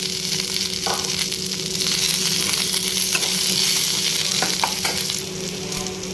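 Chopped onions fry in a pan for dosa, giving off a loud, steady sizzle and crackle. A few brief scraping stirs and clinks come through the hiss.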